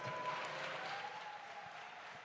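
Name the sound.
audience applause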